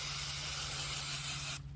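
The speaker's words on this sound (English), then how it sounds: "I'm gonna spray this real quick" An aerosol of paint stripper hisses in one continuous burst onto Mustang door plates during a Foxbody restoration, loud and close, cutting off abruptly near the end.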